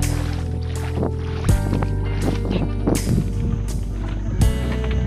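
A large wooden raft-style boat moves across clear water at Puerto Princesa City, its steady engine drone running throughout with periodic knocks and splashes roughly every second and a half, fairly close and loud with no talking.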